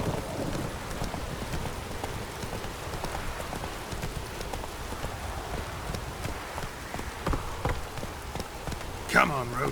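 Steady rain patters in The Witcher video game while a horse, Roach, clip-clops along, with a sharp whoosh near the end.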